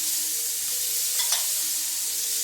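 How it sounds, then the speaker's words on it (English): Tomatoes tossed into a hot pan during a sauté of asparagus and tomatoes sizzle steadily and loudly, with a brief stir-and-scrape in the middle and no voices. "I'm going to toss these tomatoes in quickly"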